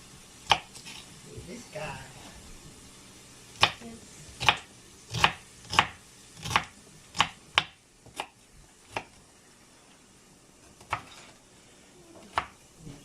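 A knife chops stuffing ingredients into small pieces on a board for Thanksgiving, with about a dozen sharp, separate clacks close by, some in quick runs and some alone, against a quiet background.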